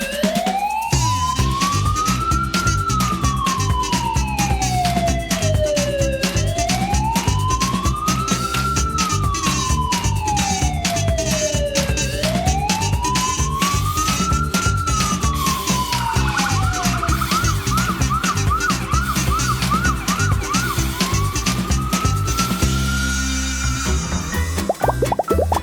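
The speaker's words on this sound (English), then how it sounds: "ambulance." An ambulance siren wails loudly and steadily, its pitch sweeping up and down in repeated slow cycles before switching to a faster yelping pattern near the end, with a musical backing underneath.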